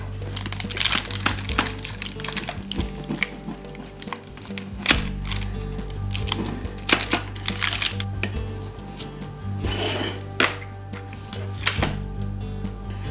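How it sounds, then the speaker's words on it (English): A knife cuts through a piece of carnivore pizza with a meat base, giving scattered close scraping, crackly crust snaps and clacks against the pan over several seconds, with no voices. "So I'm gonna try to cut a piece of this."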